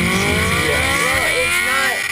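A scooter fitted with a Suzuki GSX 600 motorcycle engine rides past with a loud, high, buzzing whine, its pitch climbing and falling through quick revs and shifts as it accelerates.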